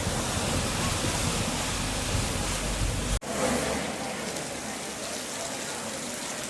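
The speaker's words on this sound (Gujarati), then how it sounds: "બગસરામાં વરસાદ છે ભાઈ" Steady, dense rain pours down in Bagasara, a loud continuous wash of noise that cuts out sharply for an instant midway, then resumes slightly softer.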